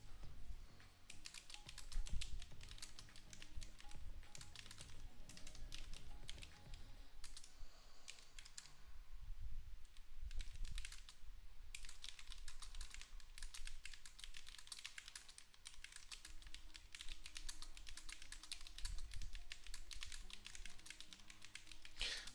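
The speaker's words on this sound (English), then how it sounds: "So when I'm typing," Fingers type on a computer keyboard in quick, irregular bursts of light clicking taps, close and moderately quiet, with short pauses between runs of keystrokes and no talking.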